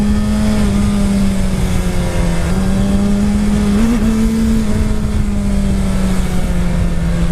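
A 2019-2020 Suzuki Hayabusa motorcycle engine held in first gear, a loud close steady drone with slight rises and dips in pitch as the throttle shifts, running alone throughout.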